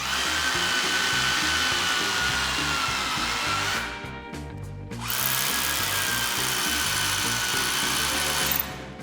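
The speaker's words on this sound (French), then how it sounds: "Tu peux prendre la foreuse. Et alors, dans la lignée de la pilasse, faut me faire 3 trous, n'importe où, mais dans la même lignée." A power drill bores three holes in a line at a stadium construction site. Its motor whines loudly and continuously, stopping briefly before spinning up again.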